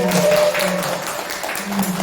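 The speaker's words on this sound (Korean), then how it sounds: "우리 두 자매분에게 우리 큰 박수 부탁드립니다" Seminar audience applauding in a hall, a dense patter of clapping mixed with a faint tonal hum and some background voice.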